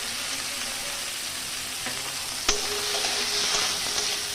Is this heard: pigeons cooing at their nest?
no